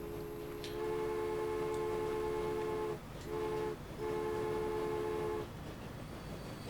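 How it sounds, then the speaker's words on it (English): A train climbing into alpine mountains in Transport Fever sounds a sustained chord-like horn in three blasts, the longest first, over a steady rumbling rail background. "The little train continued its mission up into the mountains"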